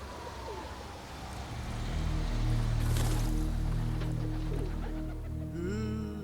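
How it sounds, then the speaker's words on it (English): Pigeons on a New York rooftop coo and call softly amid steady outdoor background noise, with a brief burst of flapping or rustle midway and a clearer call near the end. "I just go fly my pigeons on the roof in New York."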